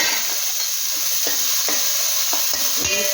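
Washed raisins fry in ghee in a kadai, giving a loud, continuous sizzle broken by regular scraping stirs of a spoon, heard close up and alone.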